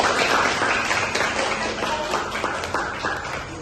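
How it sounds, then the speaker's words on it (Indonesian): A group of students claps in a classroom, a dense steady patter of applause at moderate loudness that runs through the whole moment and thins slightly toward the end. "Bagus, beri tepuk tangan."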